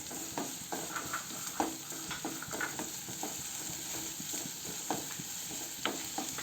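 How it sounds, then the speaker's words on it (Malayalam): Ginger garlic paste sizzling in hot oil in a pan, a continuous crackling fry with frequent spatula stirs and scrapes, close and unaccompanied by speech. "എന്നിട്ട് അതിൽ ഇഞ്ചി വെളുത്തുള്ളി പേസ്റ്റ് ഇട്ട് കൊടുക്കാം. എന്നിട്ട് അത് നല്ല രീതിയിൽ വാട്ടി കൊടുക്കാം."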